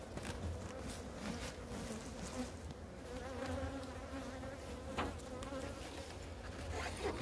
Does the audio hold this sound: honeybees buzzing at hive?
yes